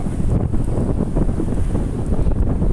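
Strong wind buffets the microphone in a steady low roar, with surf and open-air rumble underneath on Laem Charoen beach, Rayong; no one speaks.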